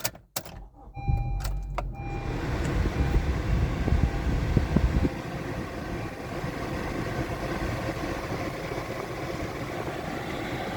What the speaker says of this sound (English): let's turn it on. So this is a cold start